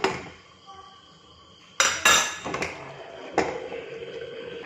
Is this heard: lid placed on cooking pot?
yes